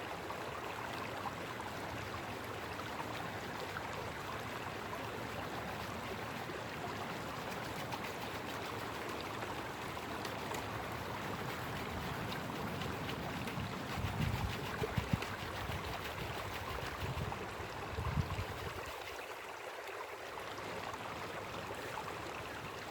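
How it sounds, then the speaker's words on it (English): Steady rushing flow of a stream at a Colorado gold mining site, a continuous broadband wash that runs the whole time with a few brief splashy surges near the middle and no talking. "there's still a lot of water flow going through"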